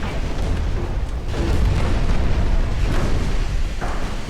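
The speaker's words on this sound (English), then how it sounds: "Another torpedo hit." A torpedo striking a warship in the Ultimate Admiral Dreadnoughts naval game, a loud sustained rumbling blast with deep booming swells that roll on for several seconds, alone without talk.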